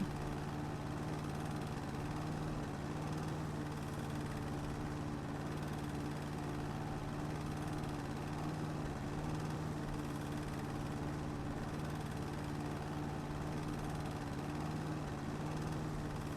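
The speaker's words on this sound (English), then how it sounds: "you get the mower to drift along the fence if you just angle it just right" A lawn mower runs continuously while cutting grass along a fence in a house garden, a steady mid-distance engine drone with no change in pace and no voices.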